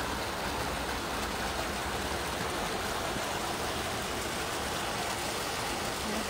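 Sewage water pours steadily from a drain pipe into an open channel, a dense, rushing splash, constant and close, with no voices or breaks.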